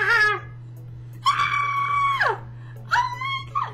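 A weird, high, warbling scream in three drawn-out bursts with wavering pitch that bends and drops at the ends, heard close over a steady low electrical hum.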